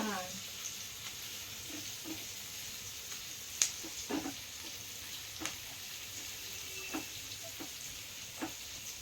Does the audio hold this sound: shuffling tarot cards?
no